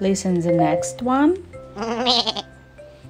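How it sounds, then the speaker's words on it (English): A goat bleats in a wavering, drawn-out call, preceded by a person speaking briefly. "It's a sound of goat."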